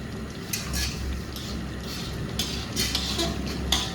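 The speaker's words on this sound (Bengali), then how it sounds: "এবারে ভেজে রাখা আলুগুলো দিয়ে দেবো" Pieces of fried potato tumble into a pan of chicken curry, with scattered metallic clinks and scrapes of a utensil against the pan over a low, steady background hiss.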